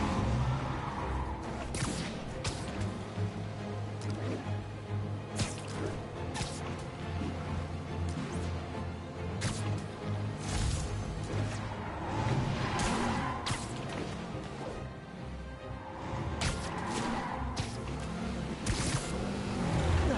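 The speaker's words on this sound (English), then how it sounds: "Now I just have to stop that car." Car engine and road noise from a vehicle chase in a Spider-Man video game, steady and loud throughout under a dense bed of music and game effects, with brief crash-like whooshes.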